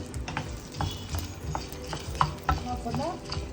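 Urad dal being dry-roasted and stirred in a pan on low heat, with soft scraping strokes and light clicking of the lentils at an even, steady pace, close and moderately quiet.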